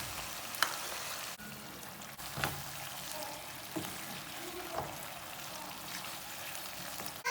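Chicken frying in a pan with ketchup, giving a steady low sizzle and crackle with a few faint clinks of stirring throughout.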